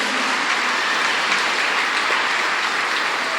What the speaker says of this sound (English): Everyone give a round of applause to the one attendant.